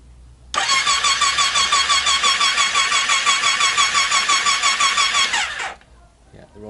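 A Triumph Speed Triple motorcycle engine cranks and starts close by, running with a steady rapid pulsing rhythm for about five seconds before being shut off abruptly.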